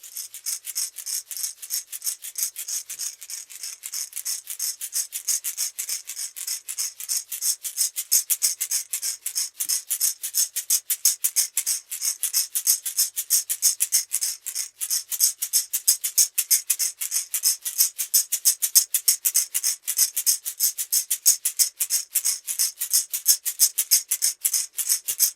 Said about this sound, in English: I'm going to use the rattle to break up the energy a little bit.